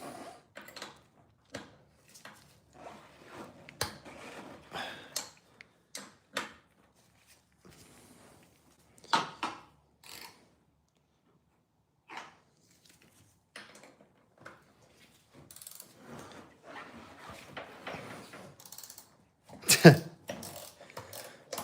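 A ratchet works on bolts on a car in short bursts of clicking, separated by pauses and scattered with clanks of tools and parts, fairly close but quiet overall.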